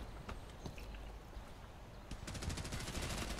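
Kalashnikov rifle fire in a video game, a quiet burst of rapid automatic shots that builds toward the end after a few scattered single cracks, heard faintly and alone.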